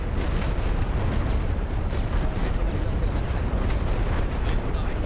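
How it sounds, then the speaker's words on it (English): Heavy artillery barrage in a World War I strategy game: a dense, continuous rumble of distant shell blasts and booms rolling together without pause, loud and unbroken for several seconds. "We'll hit these guys with heavy artillery."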